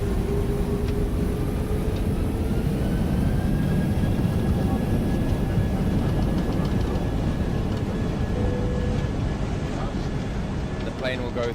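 Steady loud roar of an airplane cabin in flight aboard a zero-gravity aircraft, constant engine and airflow noise throughout with faint tones, no speech over it.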